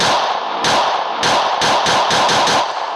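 Video game gunfire: several rapid bursts of automatic shots, loud and close, separated by short pauses, with no speech.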